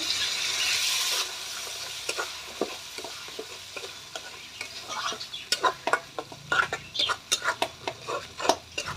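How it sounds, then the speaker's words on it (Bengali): Fish curry being sautéed with mustard paste and a little water in a pan, soft sizzling under repeated scraping and knocking of a spatula against the metal, growing busier and sharper toward the end. "অল্প জল জল দিয়ে আমি ভালো করে কষিয়ে নেব"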